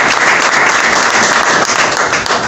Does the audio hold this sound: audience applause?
yes